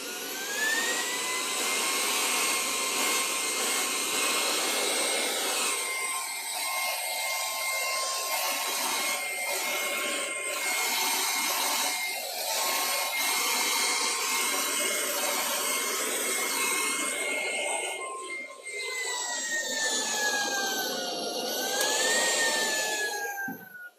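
A vacuum cleaner drones loudly and steadily nearby as spilled powder is cleaned off a gaming chair, its whine staying constant and then dipping and rising in pitch near the end.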